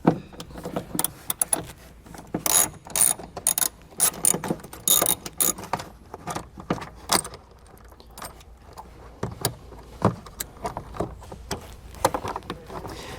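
A ratchet clicks in quick, irregular bursts while removing 10 mm bolts inside the interior of a 2018 Mazda CX, with metallic rattles and jangling between the bursts, up close and loud.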